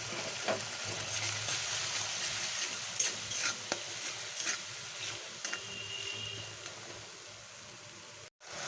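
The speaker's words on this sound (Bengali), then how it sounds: "লো হিটে আমি ভালো করে মিশিয়ে নেব" Spices for a pumpkin curry with asafoetida water get stirred in a pan over low heat, a steady soft sizzle with scattered scraping spoon strokes throughout, ending in a brief cutoff.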